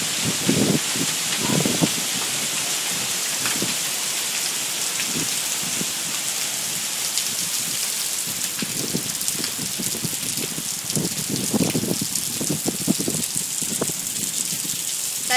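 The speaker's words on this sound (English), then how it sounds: "this is hail." Hailstones patter steadily onto a commercial driveway, a dense continuous hiss of impacts with scattered louder bursts, heavy and close throughout with no voices.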